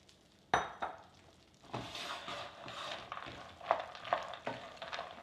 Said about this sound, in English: now we are going to add all the nuts